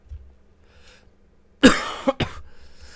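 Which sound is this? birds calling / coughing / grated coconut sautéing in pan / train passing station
coughing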